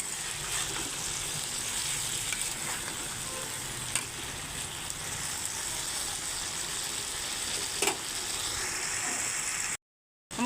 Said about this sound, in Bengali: এখন আমি কষিয়ে নিচ্ছি পাঁচ মিনিট